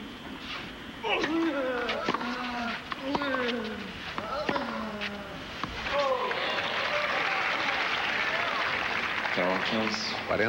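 The Roland-Garros crowd applauds a shot during the 2001 quarterfinal between Kuerten and Kafelnikov. The clapping rises beneath someone commentator talking in Portuguese and grows fuller toward the end.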